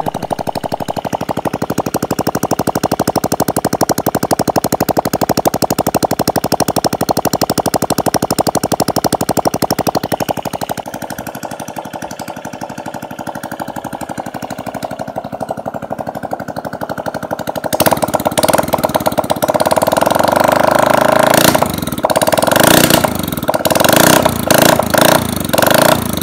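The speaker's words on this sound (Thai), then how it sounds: "ครั้งเดียวสตาร์ทติดนะครับ เสียงดังมากนะครับไม่มีท่อนะครับอย่างลั่นเลยนะครับ" Honda Click 125 scooter fitted with a PCX 150 cylinder runs with no exhaust pipe, a loud, harsh, rapid engine clatter that idles steadily, dips briefly, then roars back louder with revving bursts, close up and with no talking.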